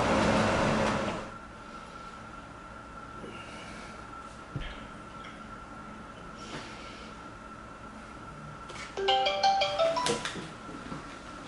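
A phone ringtone sounds with a steady tone, then a bright, melodic ringing burst near the end before the call is answered, over quiet room background.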